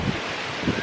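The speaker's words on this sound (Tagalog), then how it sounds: "Lakas ng hangin." Strong outdoor wind buffets the microphone in low rumbling gusts that swell at the start and again near the end, loud and close, with no talk.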